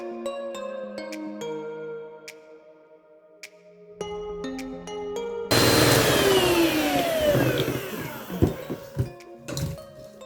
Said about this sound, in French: on vient continuer à mélanger jusqu'à ce qu'on obtienne une meringue bien ferme